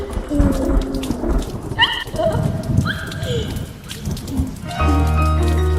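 Rain patters and thunder rumbles as sound effects woven into a Hindi romantic song, with musical tones and sustained notes layered over the storm throughout.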